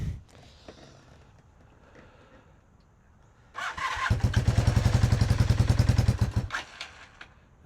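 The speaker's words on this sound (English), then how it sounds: "I don't know if the battery's going to have enough power to start it" A Honda CB400 motorcycle that has sat unused and has a weak battery turns over and catches, breaking into a loud, steady rapid idle for several seconds before it cuts out, with no talk over it.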